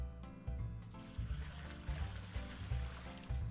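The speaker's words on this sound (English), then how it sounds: "And water my cat." Water pouring and trickling while a cat is watered in the Doggie Dash video game, a steady liquid splash with repeated low bursts, fairly quiet and without talk.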